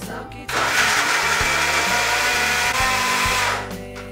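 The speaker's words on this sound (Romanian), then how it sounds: "Vom mixa totul cu ajutorul unui blender." A kitchen blender mixes a wellness breakfast shake, its motor whirring in loudly after a brief pause and running steadily for a few seconds before winding down at the end.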